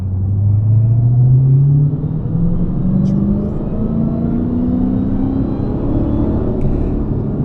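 A widebody Dodge Hellcat accelerates hard through city streets, a loud, steady engine roar with a supercharger whine that climbs continuously in pitch over several seconds, with no talking.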